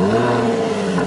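A Jaguar F-Type sports car engine revs loudly and close with a steady droning tone across the whole second-long burst.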